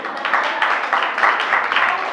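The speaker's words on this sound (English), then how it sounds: "Clap if you've been on a shitty day." A comedy club audience applauding, scattered hands clapping in a dense steady patter that fills the room, moderately loud and continuous with no talk over it.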